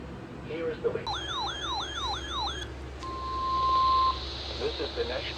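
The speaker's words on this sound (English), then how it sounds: "the National Weather Service has just activated the public warning alarm tone in the test" A weather radio public warning alarm test plays through a speaker: a warbling siren-like tone sweeps up and down for about a second and a half, then a long steady single-pitch tone follows, with a voice announcing before and after.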